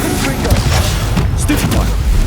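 Spell explosions from Confringo and Bombarder blasts in the Hogwarts Legacy video game, a dense, continuous rumble of booming impacts running through the whole stretch, with game voices talking over it.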